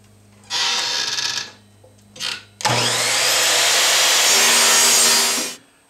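A miter saw set at 9.5 degrees cuts an angle on a wooden front leg piece braced against a clamped sacrificial fence; the motor spins up, bites through the wood in one sustained loud cut, then winds down.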